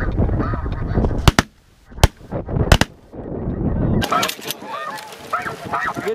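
Snow geese honk loudly during a goose hunt, mixed with sharp shotgun blasts and then a dense, clamoring flock calling overhead.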